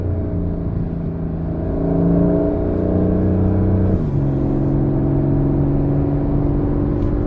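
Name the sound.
Porsche 911 Carrera 4 GTS T-Hybrid car driving and accelerating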